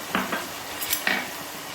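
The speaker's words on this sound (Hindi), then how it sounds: "ये प्याज भी इसी में डाल दूंगी, ठीक है" Onions tipped into a pot for a spicy beef karahi, giving a few close clattering knocks of pan and utensil with a faint stir, spaced over a couple of seconds.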